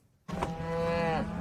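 A cow on a California cattle ranch gives one long, loud, close moo that starts abruptly after a brief silence and holds steady for over a second.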